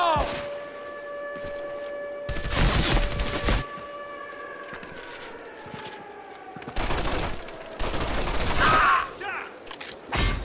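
MG42 machine gun fire from Medal of Honor: Vanguard, heard as several loud, dense bursts separated by quieter gaps, over a steady wailing, siren-like tone, with a short shout.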